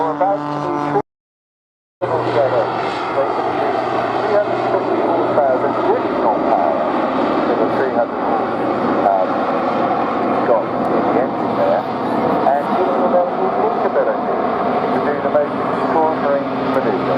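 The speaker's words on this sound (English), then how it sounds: "just putting in a strafing run once again, all clear, and pulling away to a safe height" Military aircraft engine roaring steadily at an airshow during a strafing run, loud and sustained as it pulls away, with a commentator talking over it throughout.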